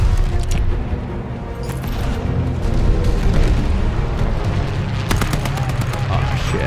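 A grenade blast in the Call of Duty Vanguard campaign booms amid continuous close gunfire and battle noise, with sharp bursts cracking through a loud, dense war soundscape.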